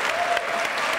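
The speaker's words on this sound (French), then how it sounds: "Vous pouvez applaudir, mesdames, messieurs" A TV studio audience applauds a guest, a loud, continuous burst of clapping with a faint sustained tone underneath.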